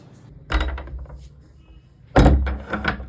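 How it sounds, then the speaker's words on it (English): Two solid thuds of a door being pushed shut, the second louder and sharper with a rattling latch or lock, close by in a quiet indoor room. "Always lock the door before sleeping."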